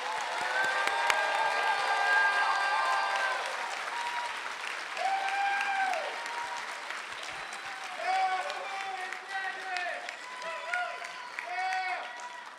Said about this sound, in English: If we could take just a moment to give one rousing applause for all of our